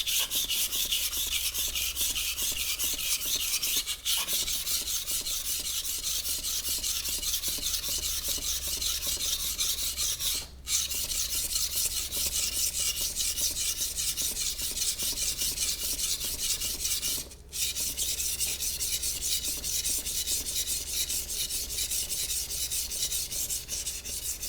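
A knife blade scrapes back and forth on a wet whetstone in a fast, steady rasping rhythm, close and continuous, broken only by a few brief pauses.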